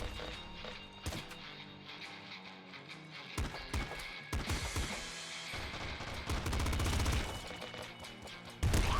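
Gunfire in the top-down shooter Nuclear Throne: clusters of sharp, rapid game shots in quick bursts, growing denser and louder toward the end over a steady electronic background.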